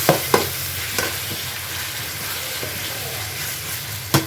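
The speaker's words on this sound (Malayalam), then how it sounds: "ഇനി ഇതിലേക്ക് നമുക്ക് അരിഞ്ഞു വെച്ച തക്കാളി, ഞാൻ 5 എണ്ണം എടുത്തിട്ടുണ്ട്, കുറച്ച് കറിവേപ്പില, ഇതെല്ലാം കൂടി നമുക്ക് ഒന്ന് വഴറ്റിയെടുക്കാം" Chopped tomatoes and curry leaves sautéing with onions in a pan for chicken biryani give a steady close sizzle, with a few sharp spoon scrapes and clinks as the mixture is stirred.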